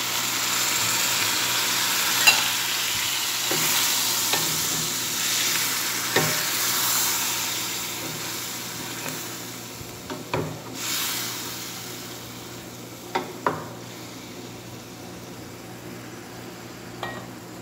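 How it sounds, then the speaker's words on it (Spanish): Chicken pieces sizzle in a pan with white wine, a steady moderate frying hiss running throughout, punctuated by scattered clicks and scrapes of a utensil stirring. "Ahora sí, vamos a poner el pollo. Y ahí está el pollo."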